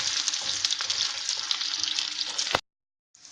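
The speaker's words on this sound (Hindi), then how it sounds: "अब इसमें डालेंगे हम हींग थोड़ा सा और इसके बाद डालेंगे लहसुन अदरक। इसको थोड़ी देर अच्छे से भूनेंगे।" Garlic and ginger with asafoetida sizzle and crackle loudly in hot oil, a steady frying hiss with small pops, then it cuts out abruptly and returns faintly.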